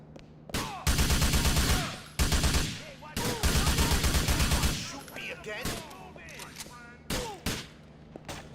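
Bursts of automatic gunfire in GTA IV, several loud sustained volleys with short gaps, followed by scattered single shots and a quieter stretch of mixed game noise.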